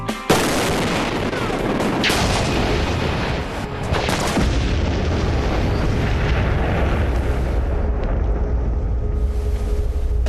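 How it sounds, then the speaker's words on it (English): Dynamite and ammunition explosives go off with deep, throaty thuds and rumbling booms, loud and sustained through the whole stretch, with a sharp blast near the start and more bursts following. "Low-speed explosives like dynamite and ammo, they have a much throatier thud."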